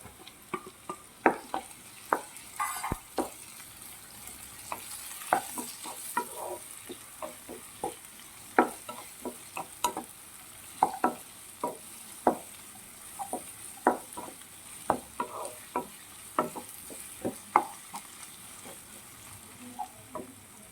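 Chopped tomatoes frying with curry leaves in a pan for a homemade beef fry: a soft background sizzle punctuated by many distinct, irregular spatula clicks and scrapes as the tomatoes are stirred.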